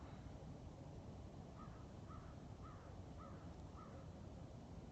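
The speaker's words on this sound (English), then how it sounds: "That's a crow, yes." A crow caws five times in an even rhythm, faint and distant, over a steady hiss of outdoor background noise by a lake at sunrise.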